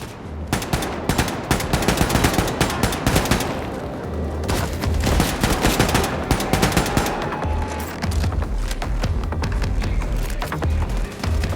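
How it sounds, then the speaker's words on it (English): Machine gun fire in the video game Wolfenstein II: The New Colossus, loud, dense automatic bursts rattling almost continuously for over ten seconds, with booming impacts mixed in and no talking. "Let's go to a machine gun for a bit."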